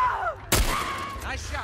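A single gunshot from the video game The Last of Us Part I cracks out loud and sharp partway through, its blast decaying over a quiet bed of game ambience and faint voice-like sounds.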